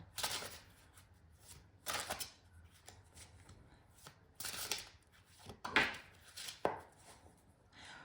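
Tarot cards are shuffled and drawn by hand at close range, with quiet riffling bursts and soft slaps recurring irregularly between stretches of near silence.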